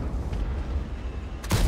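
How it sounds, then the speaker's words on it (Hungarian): A tank cannon shot in World of Tanks fires near the end as a sudden loud broadband boom, preceded by steady in-game engine rumble, with no talk. "Nagyon jó lövés."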